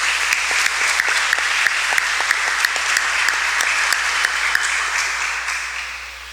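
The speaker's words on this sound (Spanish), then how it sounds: "Pero entonces el aplauso se lo lleva María Mónica." Congregation applause at a Catholic Sunday Mass in a church: dense, sustained clapping with a steady rhythmic pulse running through it, loud and even before tapering slightly at the end.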